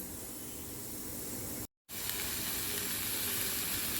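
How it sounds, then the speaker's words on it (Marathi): Spices roasting in a pan give a faint, steady hiss and sizzle, broken once by a brief silent gap. "आता मी मसाले भाजायला घेते"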